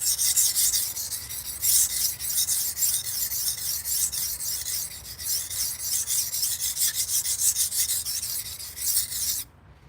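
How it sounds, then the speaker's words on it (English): Steady, rhythmic rasping strokes of a blade being sharpened on a fine sharpening stone, loud and close, continuing for most of the time before stopping abruptly. "as I'm hitting it on this finer stone"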